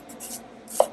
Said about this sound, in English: you will cut them in slices of 1 inch